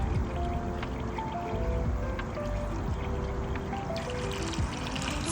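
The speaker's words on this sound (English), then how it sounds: "Step 1. Fill your bowl with water." Steady, continuous pouring of water into a round bowl for a DIY bird bath, a close, even splashing stream that fills the bowl from start to finish with no talk.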